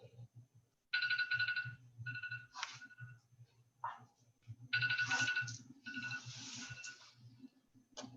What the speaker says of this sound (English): is it an alarm? alarm for me to do my eye drops